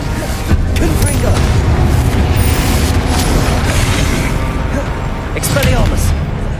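A loud, booming fire-spell explosion from the Hogwarts Legacy game bursts amid continuous rumbling combat noise, with sharp crackling pops scattered over a heavy, sustained low roar.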